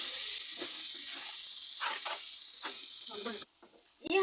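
Korean noodles being stirred and heated in a pan give off a steady hiss and sizzle with scraping stir strokes, stopping briefly before a final clatter.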